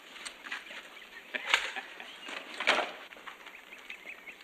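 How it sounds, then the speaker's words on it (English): A hen in a Western farmyard scene clucks and flaps its wings in a few short bursts, fairly close, over a faint hiss of background ambience. "Got us a new hen, Paul."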